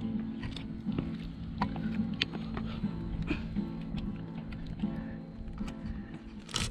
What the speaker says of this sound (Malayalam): ഒരു അച്ചാച്ചൻ ബോട്ട് ഒരു ചെറിയ ബോട്ട് വെള്ളത്തിൽ ഇറക്കിയിട്ട് ഓടിപ്പിക്കുന്നുണ്ടാ